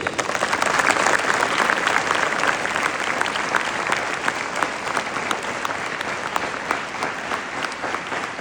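Students at a school morning assembly give their teachers a loud round of applause, dense crowd clapping that stays steady and strong throughout, filling the space with no voices on top.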